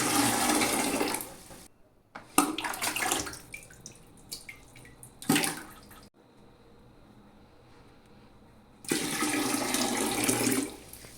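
Water is poured and splashed in bursts over a toy doll at bath time, with loud gushing stretches broken by quiet gaps and softer trickles between.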